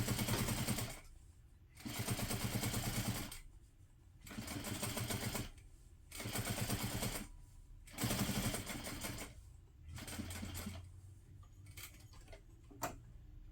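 A sewing machine runs in several bursts of rapid stitching with a shorter stitch length around a box corner on a tote, pausing briefly between runs and slowing into a few separate ticks at the end.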